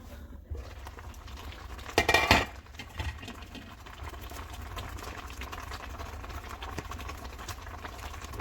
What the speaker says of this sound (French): Là maintenant, je vais venir ajouter le poisson fumé que j'ai déjà lavé.